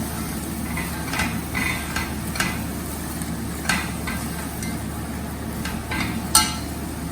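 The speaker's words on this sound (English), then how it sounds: "Now you throw in the aloo and stir everything nicely." Potatoes are stirred into a pot of rice on high flame, with intermittent spoon scrapes and occasional sharp metallic clinks over a low sizzle.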